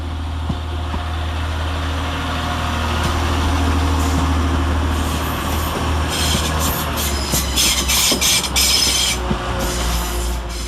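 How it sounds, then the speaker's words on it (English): A Northern Rail train rumbles into Manchester Piccadilly station, a loud, steady low drone of engine and wheels, with bursts of high squealing and clatter as it slows. "Arriving next to terminate with a Northern Rail service off of Alderley Edge is 331019"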